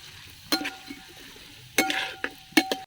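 Sliced onions stirred in a frying pan for Kerala-style fish head curry: a few scraping clinks of the spoon against the pan over a low, steady sizzle.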